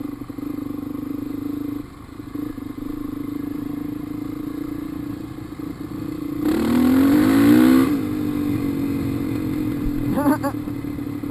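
A dirt bike ridden on a trail, heard from the rider's position: a steady engine hum that surges into a loud rising rev for a couple of seconds, then settles back, with a brief buzzing rev near the end.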